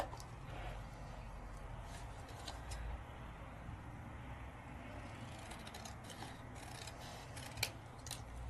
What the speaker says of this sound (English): Now I can choose to just trim it off.